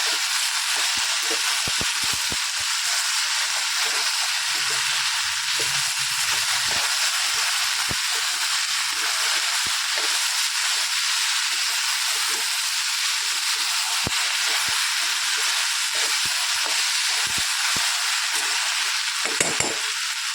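Spiced okra (bhendi) stir-fries in a pan over a high gas flame, with a loud continuous sizzle and hiss and occasional soft knocks and scrapes of a spatula stirring.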